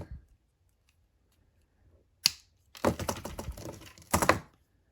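Wire cutters snip jewelry wire for a wrapped bead pendant, giving a sharp isolated click, then a run of quick small clicks and handling noise, ending in another crisp snap, close and quiet in a still room.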